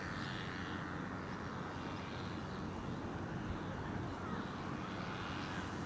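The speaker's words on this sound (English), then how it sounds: "KLM flight 1268 arriving from Copenhagen and Embraer 190" A KLM Embraer 190 jet arriving at Amsterdam Schiphol, heard as a steady, distant engine roar and broad whoosh with a faint hiss, fairly quiet and unchanging throughout.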